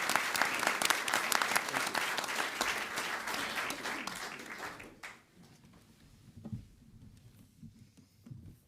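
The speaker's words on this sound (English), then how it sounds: "a huge round of applause for our wonderful panel members" An audience at a conference session applauds the panel members with dense, loud clapping that fills the room for about five seconds, then thins out to scattered claps and quiet room noise.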